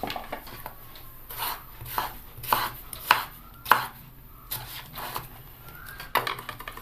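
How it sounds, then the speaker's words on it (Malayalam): A knife chops green tomatoes on a board in a series of crisp, irregular taps, close and clear with quiet pauses between cuts. "ഇതുപോലെ നമുക്ക് ബാക്കി തക്കാളിക്കായും കൂടെ അരിഞ്ഞെടുക്കാം."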